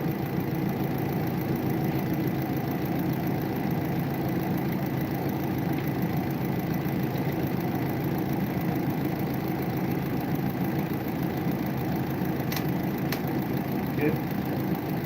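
A Kia Soul engine idles steadily throughout a thermostat replacement, a constant mid-low drone with a faint tick near the end.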